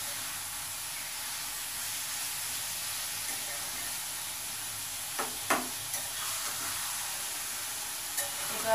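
A white vegetable bhaji with salt, onion, garlic and chili, made without turmeric, fries in a pan with a soft, continuous hiss, broken near the end by a few sharp stirring scrapes and clinks.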